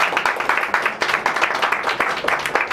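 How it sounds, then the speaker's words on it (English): Audience applause at a Cinco de Mayo art exhibition welcoming an alderman, a steady wash of many hands clapping, fairly loud and close, continuing throughout without speech. "let's give Marc a welcome and a round of applause"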